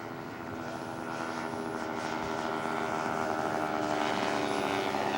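A scale model propeller aircraft flies past at a model airshow, its engine droning steadily and growing slightly louder as it approaches, with no talk heard.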